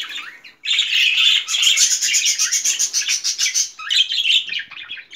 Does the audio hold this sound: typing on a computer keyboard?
no